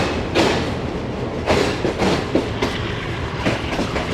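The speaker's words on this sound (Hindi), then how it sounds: "पहले आपको ये ट्रेन दिखाते हैं सामने से आती हुई" Shalimar Express hauled by locomotive GU40 9006 approaching in Lahore, a steady loud rumble with repeated rhythmic wheel clacks and thumps as the train draws near, no voices.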